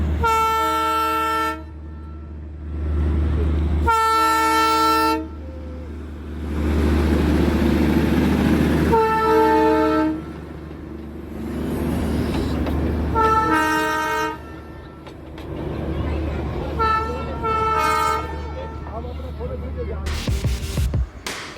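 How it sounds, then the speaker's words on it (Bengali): Darjeeling toy train at the Batasia Loop, with a series of loud, drawn-out horn blasts repeating over rumbling and rattling of the passing carriages, with voices in the background. "এখানে আবার উল্টো দিক থেকে আরও একটা ট্রেন আমরা দেখতে পেয়ে গেলাম"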